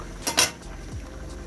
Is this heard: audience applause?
no